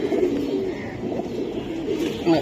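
Giribaj pigeons coo in low, throaty, repeated calls, close by and continuous against a busy background.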